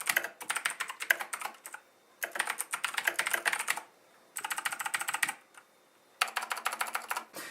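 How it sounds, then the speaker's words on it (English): Rapid clicky keystrokes on a Razer BlackWidow Ultimate 2014 mechanical keyboard come in four bursts of fast typing separated by short pauses, close and crisp with no talk. "these have that nice clicky feel and response to them. You definitely can hear it when you're typing"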